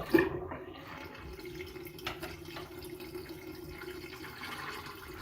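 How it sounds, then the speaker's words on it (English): Soapy wash water drains out of a sink during hand-washing of clothes, a low continuous gurgling rush with a brief splash at the start, close and moderately quiet. "drain your water out of the sink"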